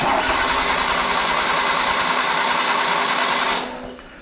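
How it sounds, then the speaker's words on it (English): Engine of a car being cranked during a manifold vacuum test, a steady loud whirring drone of the starter turning over for about three and a half seconds before dropping away. "And I'm going to reach over and crank the engine, and let's see what kind of vacuum we get."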